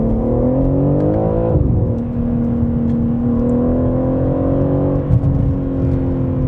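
A BMW M3 Competition sports sedan in manual shift mode pulls away and accelerates. The engine note climbs steadily, drops sharply at a shift, then pulls smoothly again, loud and close from inside the cabin.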